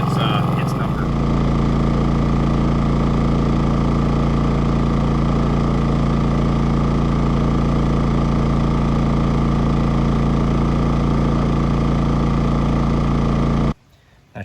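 A Champion 4500 watt inverter generator runs under load with a steady, loud, close engine drone and constant hum, cutting out abruptly just before the end.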